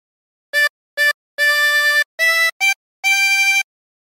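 Harmonica playing a phrase of Mary Had a Little Lamb, six clean blown notes, two short, then a longer held tone, two more short ones and a final sustained note, alone in a silent room.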